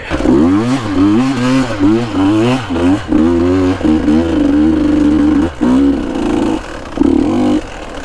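A 2022 KTM 150 dirt bike engine revs up and down in repeated surges, its loud, close, buzzy note climbing and falling several times before settling at a steady drone with a few short dips.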